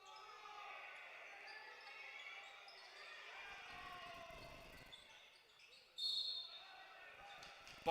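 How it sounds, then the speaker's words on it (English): Basketball dribbling on a gym floor during a Minnesota girls' high school playoff game, Long Prairie-Grey Eagle at Pine River-Backus, steady bounces under crowd noise and a play-by-play announcer talking. "Ball bounces out of bounds."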